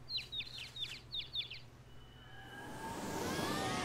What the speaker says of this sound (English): It's an angel chicken!